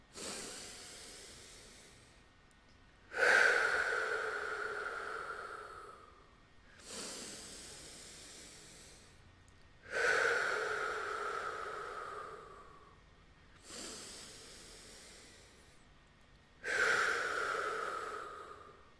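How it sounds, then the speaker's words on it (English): Slow, deep breaths during a guided breathing exercise: three long inhale-and-exhale cycles, each a broad airy rush that swells then fades, close and clear with quiet pauses between. "Let's take 3 breaths. Inhale."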